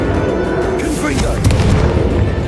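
A Confringo spell explosion in Hogwarts Legacy booms through a dense, continuous game soundscape, with a heavier low burst about halfway in, while a voice talks over the action.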